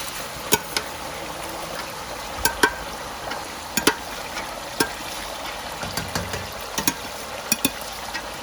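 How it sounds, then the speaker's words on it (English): Spring onion frying in a pan for a party-style chicken stew, a steady close sizzle with scattered sharp crackles and pops throughout. "so next I'll fry the spring onion"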